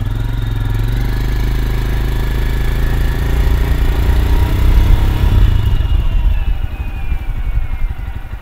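Royal Enfield Scram 411 motorcycle riding out, its mid-pitched single-cylinder engine running steadily and loud throughout, with a gear change and rising revs partway through as it pulls away, no talk.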